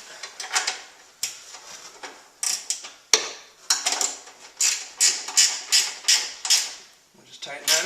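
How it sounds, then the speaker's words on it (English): A ratcheting wrench tightens the headlight assembly on a 2008-2012 Chevy Malibu, giving quick runs of close mechanical clicks in repeated bursts with short pauses between strokes. "So for this particular thing, I like to use the ratcheting wrench."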